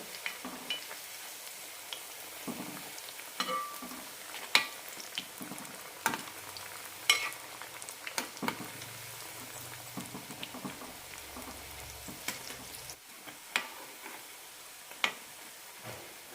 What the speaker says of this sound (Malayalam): മീഡിയം ഫ്ലെയിമിലിട്ട് വറുത്തെടുക്കാം പുറംഭാഗം നന്നായി ക്രിസ്പി ആയി കിട്ടണം